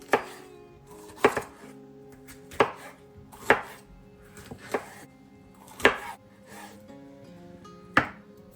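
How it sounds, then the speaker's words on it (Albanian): Three bell peppers are cut into medium cubes on a board, each knife stroke landing as a sharp, close chop at irregular intervals of roughly a second, with quiet gaps between the strikes. "Do t'i presim specat në forma kubike në mallësi mesatare."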